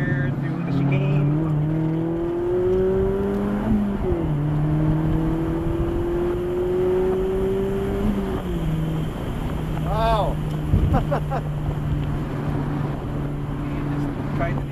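A Mazda Miata engine drives on a race track in the rain, revving up through the gears with rising tones and shifts, plus wind and spray noise; a voice speaks over the engine.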